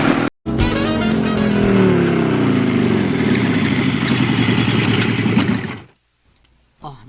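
A motorcycle engine runs loud and close at a steady idle with slight revving for several seconds, then cuts off abruptly, leaving near silence and a brief faint sound at the end.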